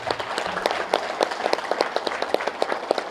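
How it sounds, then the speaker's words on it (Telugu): Audience applause at a youth programme event in a hall, steady clapping from a crowd that stays fairly close and even throughout, with no talking over it. "ఈ 4 పిల్లర్స్కు గట్టిగా చప్పట్లు కొడదాం."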